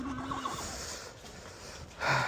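A horse being led into a new stall at a farm gives a quavering neigh that rises and falls, fairly close, then a louder snort-like burst follows at the end.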